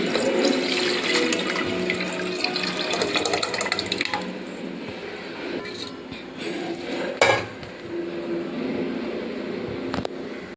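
Cooked dal water pours into a tempering pan, a rushing, splashing gush with clinks of a metal vessel and utensils, close and fairly loud, easing off partway and followed by stirring clatter.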